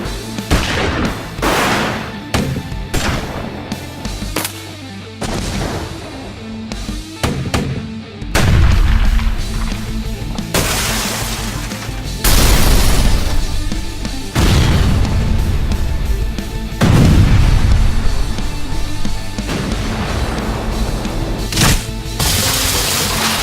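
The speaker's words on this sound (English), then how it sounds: "this brand new CD collection, Volume 7, Weapons and Explosions" Weapon and explosion effects from a sound effects collection: rapid gunshot volleys and artillery-like blasts, then several loud booming explosions with long rumbling decays, close and punchy, no talking.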